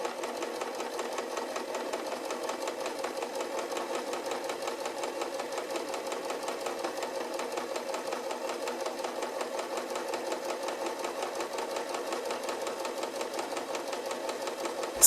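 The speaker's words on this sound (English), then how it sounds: "Start sewing in place when your basting line is finished." A sewing machine stitches a fabric seam for a tailor's ham, running at a fast, even, mechanical rhythm that holds steady and moderately quiet from start to finish, with no talk.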